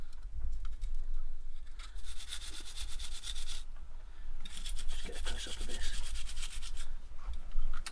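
Scrubbing barnacles and marine growth off a sailboat's wiring unit in place, a steady rough brushing that comes in two long bursts with a short pause between, fairly close, with no talk.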